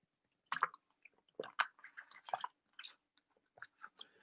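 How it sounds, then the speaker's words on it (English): A person drinking water: a few close, quiet gulps and wet mouth sounds, with no talking. "I'm going to have some water on that note."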